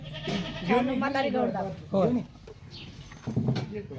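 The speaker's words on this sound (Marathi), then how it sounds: "शेरड शेळ्या" A goat gives a close, wavering bleat that rises and falls, followed by shorter bleats, with a voice speaking nearby.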